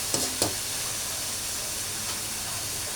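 Radish (labanos) sautéing in a hot pan, giving a steady hissing sizzle after two sharp clanks of utensils at the start, fairly close and continuous.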